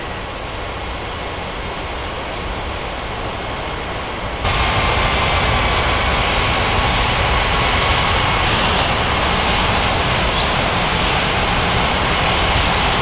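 An Air India airliner taxiing at Chennai airport, a steady broadband engine roar with a faint whine that suddenly jumps louder partway through and holds, with no voices.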